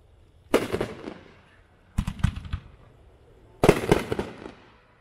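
Annihilation firework cake firing its shots in three loud, close clusters of rapid crackling bursts, separated by short pauses, outdoors at a fireworks demo.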